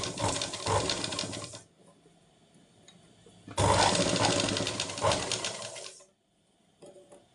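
Two long, loud bursts of rapid mechanical stitching come from a close sewing machine as it sews across a shortened elbow sleeve, separated by a quiet pause, with a brief softer run at the end.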